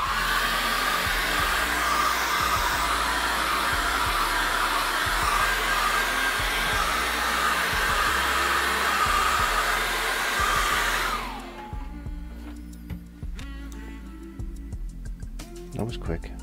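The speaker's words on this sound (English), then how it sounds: "very quickly, is just dry that with a hairdryer." A hair dryer drying acrylic paint blows with a steady, loud whoosh for about eleven seconds, then cuts off, leaving faint clicks and small handling sounds.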